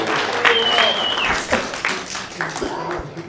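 Audience applause at a radio club meeting, a short burst of clapping from the crowd in a room, moderately loud and tapering off.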